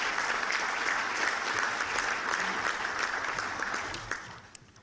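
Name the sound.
audience applause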